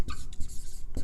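A pen scratches across paper at close range in quick, continuous strokes, about a second of steady writing with no voices.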